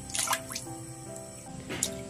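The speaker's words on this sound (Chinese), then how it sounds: "清洗干净之后，冷水放入羊肉" Pieces of mutton dropped into cold water for soup, making a few close splashes and drips, with a brief watery plop near the start and another near the end, no voices.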